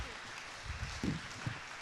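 Audience applause after a team's pitch at a Garage48 Wood hackathon final, a steady moderate wash of clapping through the whole short stretch with a couple of louder bumps.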